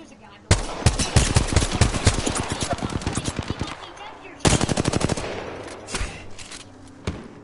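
Gunfire in Apex Legends: a loud, close burst of rapid automatic shots lasting about three seconds, a second quicker burst after a short gap, then a few scattered single shots.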